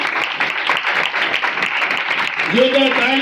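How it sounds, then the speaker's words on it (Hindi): A church congregation at a sermon in Karachi, Pakistan breaks into loud clapping that rolls on steadily, with a voice beginning to speak over it near the end. "जोरदार तालियां"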